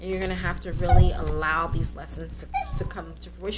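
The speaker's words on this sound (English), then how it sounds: "that's my dog" A small pet dog whimpers and yips in thin, high cries beneath a person's steady, close talking.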